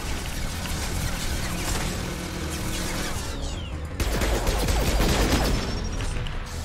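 Sustained gunfire from assault rifles and pistols in the Mass Effect 2 video game, a dense, continuous battle clatter with a heavier burst of shots swelling after the midpoint.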